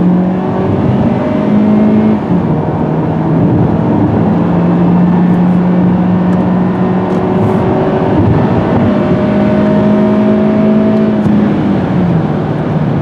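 A 2016 Hyundai Elantra with a dual overhead cam engine accelerates hard in manual mode up an on-ramp. Steady, loud engine drone rises through the gears in long pitch sweeps, heard from inside the cabin without talk.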